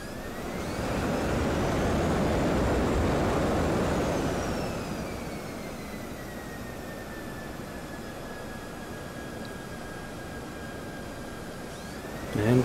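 A light aircraft engine in the X-Plane 12 flight simulator swells as the throttle opens, a loud whining drone that rises in pitch, peaks, then eases into a steady, slightly lower hum. A brief knock sounds at the end.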